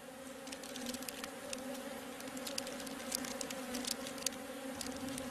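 Honeybees buzz in a dense, steady drone inside the hive, with many individual wingbeats flicking close by over a constant hum, no voices.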